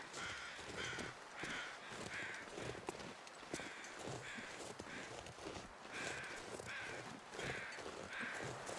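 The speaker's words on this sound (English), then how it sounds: "Noisy crows." Noisy crows caw repeatedly in a game's snowy wilderness, harsh calls rising again and again over a steady wind-like hiss and soft crunching steps, with no talk.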